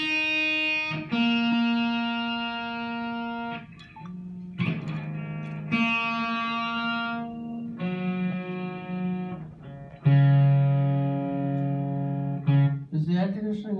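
Distorted electric guitar playing sustained chords one after another, each ringing out loudly before the next, close and buzzing.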